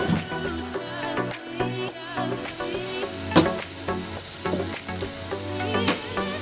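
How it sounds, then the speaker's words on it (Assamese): Spinach and curry-leaf greens frying in a pan as the base for a fish curry, giving a steady, close sizzle with light stirring clatter and brief sharp pops throughout. "আৰু অলপ সময়ৰ বাবে মই ভাজিম"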